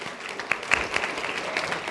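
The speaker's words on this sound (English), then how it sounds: "Let's give Matt one more round of applause." Steady applause from an audience, a dense wash of clapping at even strength with a few sharper claps standing out.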